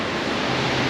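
A waterfall in northeast Iceland roars as a steady, dense broadband rush of falling water, loud and close, with no voices over it.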